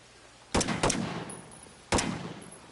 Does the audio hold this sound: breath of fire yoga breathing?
no